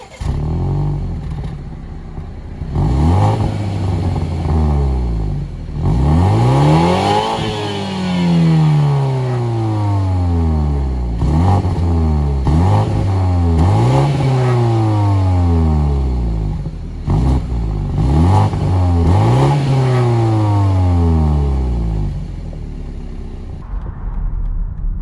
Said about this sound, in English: and you can't forget the exhaust note.